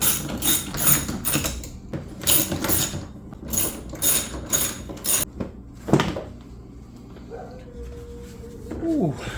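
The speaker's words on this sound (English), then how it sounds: "We have 4 T27 Torx screws. If you're not familiar with what a Torx is, it takes a special socket" Socket ratchet backing out T27 Torx screws on a Ryobi electric riding mower, heard as close bursts of rapid clicking separated by pauses, with some handling clatter and brief scraping near the end.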